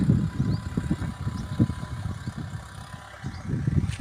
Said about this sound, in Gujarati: આવી રીતના કંઈક હાલે છે ટ્રેક્ટર